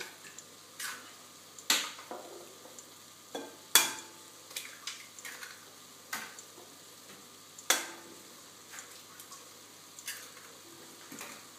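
Food in a pan sizzles softly in the background while being cooked, with sharp intermittent clatters and scrapes of a utensil breaking through at irregular intervals.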